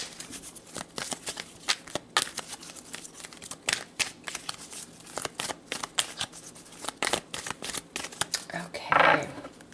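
Tarot cards shuffled steadily by hand, rapid dense papery flicks and slaps continuing close up throughout, ending with a brief louder rustle.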